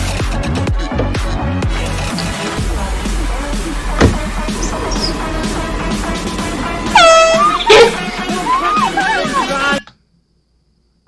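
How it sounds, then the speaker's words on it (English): A piercing air horn is blasted as a prank on a golf course, loud sustained honks under excited voices and laughter, ending abruptly in silence. "Take an air horn, make the golfer lose his club."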